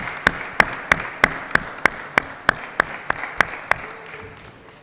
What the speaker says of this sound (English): A round of applause for Stella Matutina as they approach their seats.